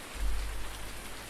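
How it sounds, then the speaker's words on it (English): Steady rain falls in Farming Simulator 19 on the Pleasant Valley County map, a constant, even wash of pattering with a brief low rumble near the start and no voices. "And it's raining again."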